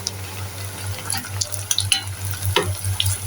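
Cauliflower pieces frying in oil, a soft continuous sizzle with scattered crackles and a few louder pops, fairly faint and close, with no talk.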